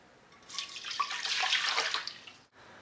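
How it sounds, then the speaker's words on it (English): Water pours into a pot for cowboy coffee, a bright splashing stream that starts after a brief pause, holds steady for about a second and a half, then cuts off, close and moderately loud with no talking. "Add a little more water than you want to drink."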